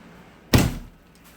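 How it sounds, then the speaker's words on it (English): A door is shut indoors with a single sharp, loud slam and a brief thud that quickly dies away against a quiet background. "Shut the door."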